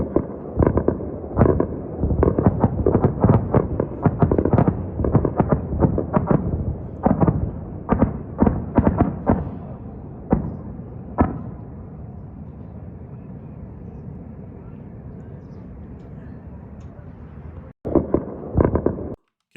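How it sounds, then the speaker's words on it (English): Rapid bursts of anti-aircraft gunfire and booming explosions crackle in dense clusters, then fade to a distant rumble before a final few sharp reports. "you're going to hear lots of like explosions and pop sounds. That sounds kind of like gunfire"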